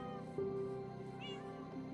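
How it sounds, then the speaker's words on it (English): Several cats meow in a Minecraft backyard: a sustained tonal mew and a brief rising call, quiet and steady over a low background hum. "This is my backyard full of cats."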